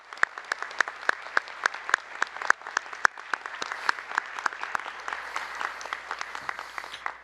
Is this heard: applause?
yes